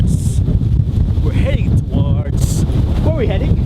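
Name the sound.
wind blowing into the microphone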